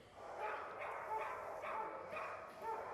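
A stressed shelter dog in a kennel with a wet floor gives repeated barks and yips, moderately close, in an uneven run of bursts over a steady background.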